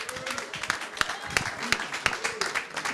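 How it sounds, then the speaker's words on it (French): An audience applauds at a live New Year's Eve show, with scattered, fairly quick claps from a modest crowd, some sharper individual hits standing out, and voices underneath. "Applaudissements pour Laurent et Ismaël, s'il vous plaît."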